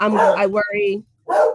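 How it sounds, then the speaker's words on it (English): A dog barks and yips in short bursts close by indoors, sounding between and under a woman's speech, with a brief quiet gap before another loud bark-like burst. "Sorry about the dog."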